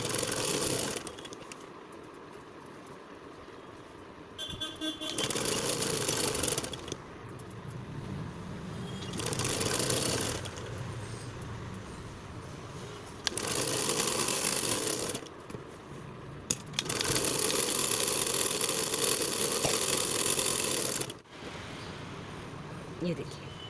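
A sewing machine stitches the front side of a blouse sleeve in several bursts of whirring, separated by pauses, with one long steady run near the end; the sound is moderately loud and close.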